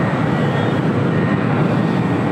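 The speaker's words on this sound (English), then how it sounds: "Pushing back a FedEx MD-11." A FedEx MD-11 is pushed back on the ramp at LAX, giving off a loud, continuous broadband jet roar with no breaks, close by.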